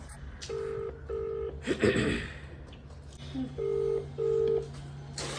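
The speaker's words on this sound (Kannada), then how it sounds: "ರಿಂಗ್ ಆಗ್ತದೆ" An outgoing phone call rings unanswered, the ringback tone sounding in two pairs of short double beeps separated by a pause with a brief breathy rustle, clear and close.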